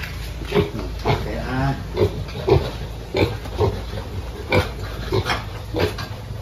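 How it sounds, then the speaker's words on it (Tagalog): Newly bought piglets in a pen grunt and oink repeatedly, short rhythmic snorts close by, fairly loud over a steady high background hiss. "Naglipat tayo ng bagong biik o baboy sa ating kulungan"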